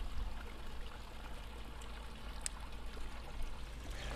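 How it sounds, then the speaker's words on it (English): Water trickling and tinkling in a garden pond in country Victoria, Australia, a steady soft stream with faint outdoor ambience and no voices. "tinkling of water on a really sunny day is lovely, isn't it?"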